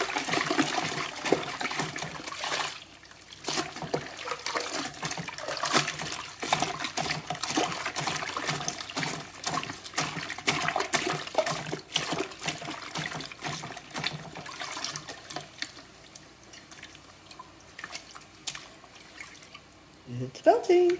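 A crocheted bag is agitated in water during felting, producing sloshing, splashing and trickling in uneven bursts close by, with a steady slapping rhythm that eases near the end.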